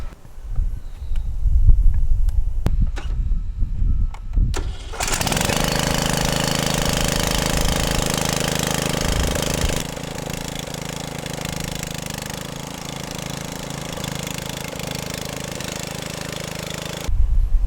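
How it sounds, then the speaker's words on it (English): Riding lawn mower on jumper cables after a dead battery: handling knocks, then the small engine cranks, catches at about five seconds and runs in a loud, steady chugging idle to the end. "Try to hook it to the jumper, see if it cranks up."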